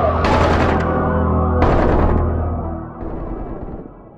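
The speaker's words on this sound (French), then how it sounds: "Les coups de feu en rafale, les cris, l'horreur" Bursts of automatic gunfire, two loud rapid rattling volleys followed by a weaker one, sharp and close with echoing decay between bursts.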